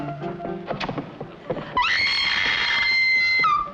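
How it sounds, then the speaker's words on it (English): A woman's long, loud scream rises sharply and holds for nearly two seconds before cutting off, following a stretch of busy clatter and faint hoofbeat-like knocks in a 1950s film scene. "Do I hear a lady screaming?"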